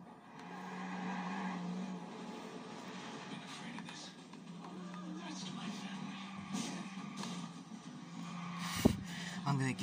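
A car in Watch Dogs drives with a continuous engine drone, a brief skid-like squeal near the end, and voices at times over it.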